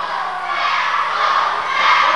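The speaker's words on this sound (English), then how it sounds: "Still cheering Fat Boy." A large crowd at a professional wrestling match roars and cheers in a steady, loud wash of voices that swells slightly toward the end.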